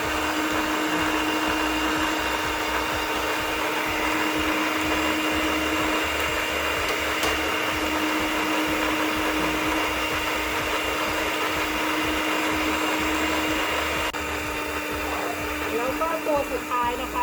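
A kitchen blender runs steadily, mixing salad dressing as mustard is added, with a continuous loud whir and a constant hum throughout that shifts slightly near the end.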